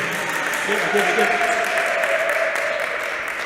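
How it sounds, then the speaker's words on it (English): Sustained audience applause after a jazz performance, a continuous even wash of clapping with a voice speaking faintly underneath. "Oh, I'm not cutting off no applause."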